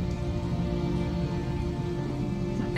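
Steady rain falls in Detroit: Become Human, a dense, continuous hiss of drops on surfaces that stays loud and even throughout, with no voices.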